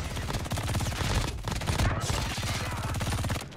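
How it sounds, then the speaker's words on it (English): An MG42 light machine gun with a maxed-out fire rate blasts in a Call of Duty ranked match as a dense, continuous, loud burst of rapid automatic fire that lasts for seconds with only a short break. "I'm trying out this gun. MG42. Just came out."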